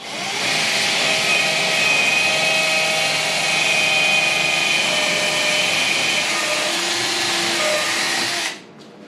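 A power drill bores through plywood while building a cart, a loud sustained whine held steady for several seconds before it cuts off abruptly near the end, close by and with no talking.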